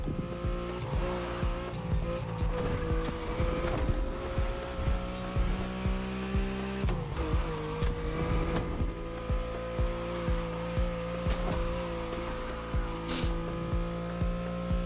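A Bugatti in The Crew Motorfest roars along under hard driving, its engine loud and continuous with rising and falling revs, punctuated by rhythmic gear shifts and brief tire squeal.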